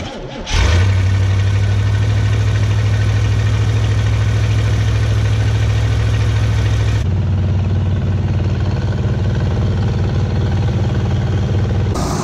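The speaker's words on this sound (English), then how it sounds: "We're adjusting the fast idle." A carbureted engine with an electronic Rochester Quadrajet (E4ME) fires up and holds a steady, loud fast idle, its low hum shifting slightly lower partway through as the idle is adjusted, with no talk.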